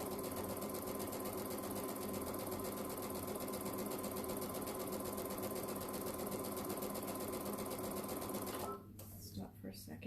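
A sewing machine stitching jelly roll fabric strips at high speed, heard as a loud, steady, rapid mechanical whir that runs without a break before stopping near the end.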